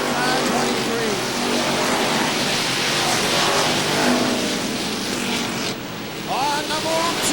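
Street stock race cars roar around an oval track at a 1997 race, a dense continuous engine wash with passing whines, heard from a distance beneath a commentator's voice.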